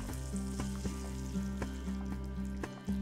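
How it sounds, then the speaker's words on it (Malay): Crispy fried spices and hot oil are poured into a pot of boiling bone soup, giving a loud steady sizzle and crackle with a low bubbling hum underneath and a brief dip near the end, with no voices. "Bila dah garing, tuang je masuk dalam periuk sup tadi yang waktu sup tengah menggelegak tu. Dengan minyak-minyak sekali"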